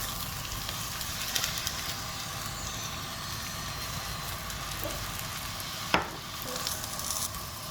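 Methi paratha sizzles steadily on a hot pan in olive oil, a continuous low frying crackle with one brief sharper clatter near the end as it is flipped.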